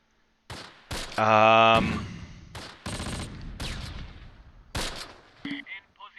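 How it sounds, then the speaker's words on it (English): Gunfire and mortar impacts from a Close Combat battle in fog around Romagny, 1944: a sustained roaring burst of fire, then a string of sharp separate shots and bangs, with a voice talking over the action. "Yeah, I think they're mortaring again."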